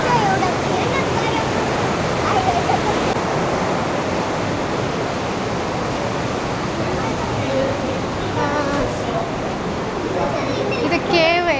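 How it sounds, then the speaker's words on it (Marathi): A waterfall at the Liechtensteinklamm gorge in Austria roars as a continuous loud rush of falling water, with voices faintly audible beneath it. "पाण्याचे आवाज किती छान वाटतात ना कानाला."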